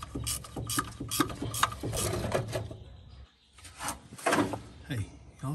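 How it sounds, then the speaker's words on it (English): A ratchet wrench tightening bolts on a 1978 Ford truck, quick repeated clicking strokes close by, pausing briefly then resuming, with someone talking over it. "Now these are just bolts, so you're gonna wanna tighten them up."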